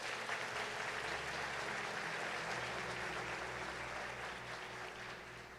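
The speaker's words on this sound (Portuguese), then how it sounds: "Você pode aplaudir Jesus?" A church congregation claps for Jesus in a sustained, dense round of applause that holds steady throughout over a low background hum.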